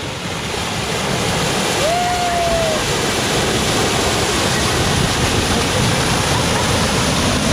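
Water pouring steadily at a waterfall near Los Barriles in Baja, Mexico: a loud, continuous, close-up roar of splashing water with no pauses.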